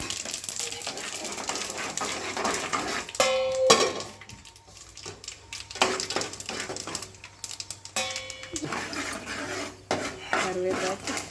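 Sesame seeds are dry-roasted in a pan for gongura chutney, with repeated metallic scraping and clinking of a spatula against the pan in uneven bursts, fairly close, and a background hum underneath.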